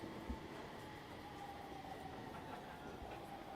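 A train runs steadily in Chaos;Head Noah, a video game set around Shibuya, with a continuous rumbling rattle of rail cars, a faint clickety-clack and a thin whine, heard quietly and without voices.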